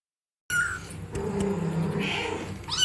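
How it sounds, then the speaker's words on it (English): Many cats kept by a hoarder meow and cry in a crowded indoor space, a few clear nearby meows over a steady din of background cat noise and rumble. "Why does Farooq have so many cats?"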